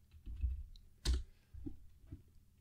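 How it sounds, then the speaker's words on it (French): Quiet, sparse tapping and clicking on a computer keyboard and mouse while entering text, a few soft irregular keystrokes with one sharper click in the middle. "je clique au milieu de mon document et je tape ici d'une tout simplement"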